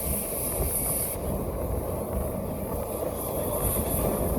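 A steam train running on rails at St Nicholas Abbey in Barbados, a steady close rumble and hiss with continuous rolling noise and no talking.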